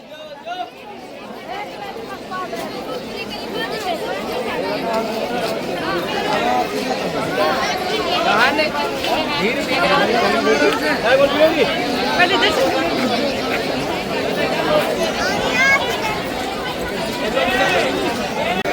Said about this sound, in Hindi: और भीड़ देखिए यहाँ से, यहाँ का नज़ारा देखिए